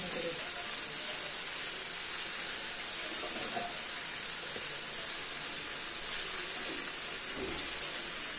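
Water poured into a pan of lightly fried vegetables and lote fish, a steady close hiss and rush of liquid with faint cooking sounds underneath.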